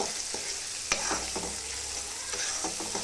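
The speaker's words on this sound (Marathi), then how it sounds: "हे पण छानपैकी तेलामध्ये फ्राय करून घ्यायचं." Masoor dal spices, turmeric and salt frying in hot oil, a constant close sizzle with a few scraping stirs of a spoon against the pan, no talking.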